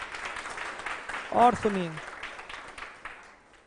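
Applause welcomes a teacher at a school gathering. It comes as a soft, diffuse wash behind a speaker's voice and fades gradually.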